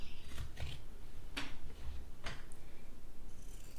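Scissors snip through fabric seam allowance during sewing, three or four close, sharp cuts spaced apart over a low steady background hum.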